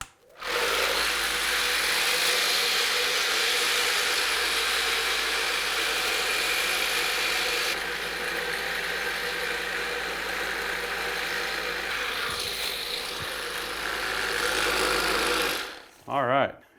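An RCBS vibratory case polisher switches on and runs with a loud, steady buzzing hum and rattle, holding constant for about fifteen seconds before shutting off.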